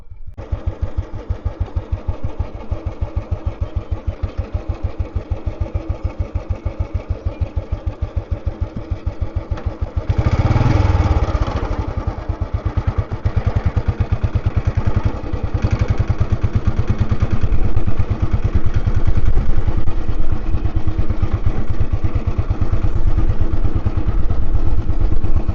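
A 2003 army-auction Royal Enfield Bullet motorcycle thumps steadily in second gear while being ridden, its close, continuous engine note rising in loudness partway through with a brief burst of added noise and mechanical clatter.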